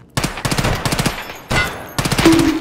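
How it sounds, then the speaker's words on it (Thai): Video game gunfire rattles out in loud, close bursts of rapid automatic shots with short pauses between volleys, the last burst running right to the end. "อย่าไปกลัวเปลืองกระสุนยิงแม่งเลย"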